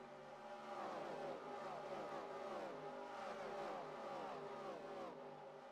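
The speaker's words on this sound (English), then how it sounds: "Gonna get a full field flyby here at Darlington" A full field of NASCAR stock cars at Darlington roaring past one after another, overlapping engine drones rising and falling in pitch as each car passes, steady and fairly loud, with no talk.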